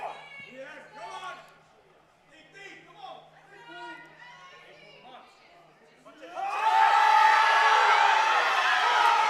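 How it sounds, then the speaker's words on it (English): At a powerlifting meet, a crowd breaks into loud cheering and whooping after a lift, rising suddenly from quieter chatter and commentary into a sustained roar. "Big support from the crowd there."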